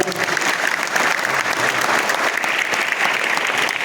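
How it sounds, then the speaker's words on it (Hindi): A crowd at a protest sit-in claps loudly and densely, a continuous burst of applause with a few voices mixed in underneath. "वो दोनों साथियों के लिए जोरदार ताली बजाएं।"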